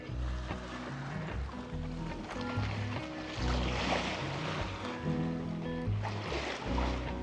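A sailboat under way in light wind, with steady water wash and gentle creaking and rustling of the boat throughout, fairly continuous with no speech.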